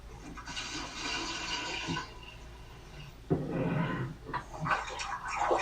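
Water gushes and splashes into a container in uneven bursts, with a pause partway through before the pouring picks up again.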